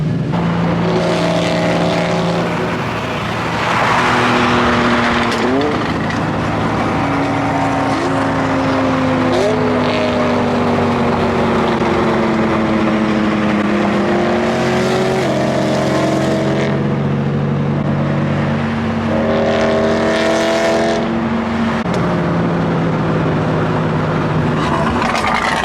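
Cars roll out to a meet alongside a McLaren P1, with steady loud engine drone and repeated rising and falling revs as gears shift, close by, with no talk.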